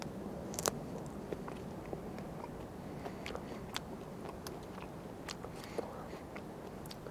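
Someone chews kiekie fruit bracts in the bush, with soft wet munching and occasional crisp crunches and clicks over a low steady outdoor background, close and quiet, with no talk.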